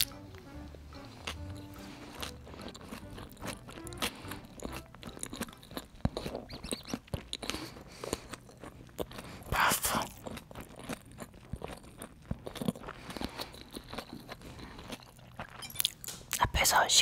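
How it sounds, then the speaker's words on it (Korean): Crunchy chicken cartilage wrapped in a ssam being chewed up close: a continuous stream of soft crunches and wet mastication, quiet and intimate, with a few louder bites along the way. "쌈싸 먹어보도록 하겠습니다."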